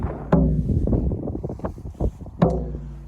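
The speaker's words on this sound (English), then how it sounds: "Excuse the noise, but of course the wind is beautiful." Wind gusting across the open ground of Avebury Stone Circle buffets the microphone with a loud, steady low rumble, swelling into two sharper gusts.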